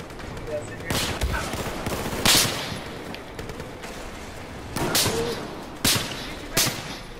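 Sniper rifle shots in Battlefield 4 crack out repeatedly at irregular intervals, sharp loud reports over a noisy battlefield background, with about six distinct shots across the stretch.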